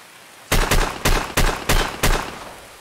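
A Chiappa Rhino .357 revolver in Escape from Tarkov fires five loud, sharp shots in quick, evenly spaced succession after a brief quiet, each with a short ringing decay.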